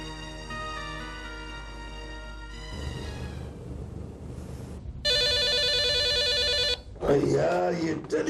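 An old landline telephone rings loudly in a quiet house late at night, giving a sustained burst of bell-like trilling that follows a stretch of music and low voices, then cuts off as a voice begins speaking.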